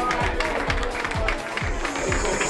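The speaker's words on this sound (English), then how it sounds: "How about a huge round of applause for Jeremy Wiens" A comedy club audience at a Las Vegas casino applauds and cheers for a comedian, a full, steady wash of clapping with crowd noise and a rhythmic low thumping of music beneath it.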